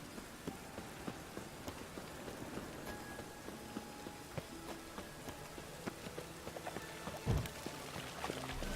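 Steady rain patters on surfaces in The Witcher 3: Wild Hunt, soft and continuous, with scattered drips and faint hoof clops, plus one louder thud near the end.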